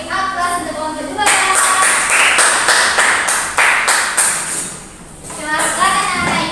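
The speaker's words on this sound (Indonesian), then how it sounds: "beri aplaus untuk kelompok 2" A classroom of schoolchildren claps for a group after its presentation, a steady burst of many hands lasting a few seconds, with a teacher's and children's voices before and after.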